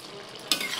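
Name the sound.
stirring jackfruit prawn curry with garam masala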